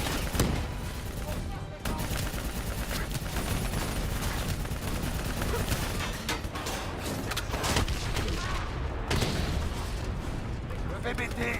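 Gunfire and explosions in the Black Ops 3 campaign, firing at a hangar target during a mission, with dense continuous shooting and booms throughout and radio voices talking over the battle.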